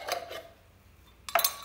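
Spoon scraping and clinking against a bowl while stirring salad with mustard, a few quick metallic clinks, close and quiet with no talk.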